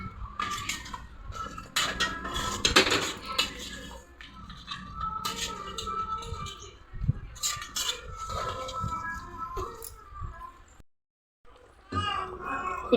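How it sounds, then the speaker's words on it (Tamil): Mutton is stirred with masala in a pan, giving busy scraping and clattering of a utensil against metal. A voice talks nearby, and faint children's voices sound in the background. "நல்லா மிக்ஸ் பண்ணிக்கலாம் மசாலாவோட"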